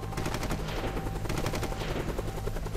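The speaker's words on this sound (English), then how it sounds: "Gunfire and explosions were heard throughout the early hours of the morning." Rapid bursts of automatic gunfire and explosions during an early-morning anti-terrorist police raid on an apartment near Paris rattle continuously, loud and sharp, with a few heavier shots mixed in and no voices.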